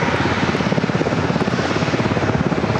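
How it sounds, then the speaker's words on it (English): V-22 Osprey tiltrotor taking off at San Diego airport, a steady loud rotor throb with rapid rhythmic pulsing and broad engine roar, sustained and fairly close throughout. "The Ospreys are taking off."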